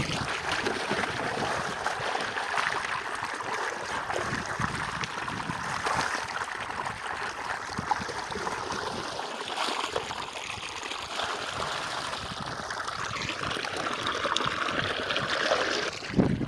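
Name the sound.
water filling a bucket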